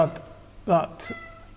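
A cat meows once, fairly close and clear, in a quiet room near a car, with a faint voice or second cry nearby.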